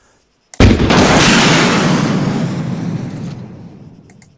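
A single sharp, loud blast from an AT missile launcher hit in Arma 3 after brief silence, followed by a long rumbling decay.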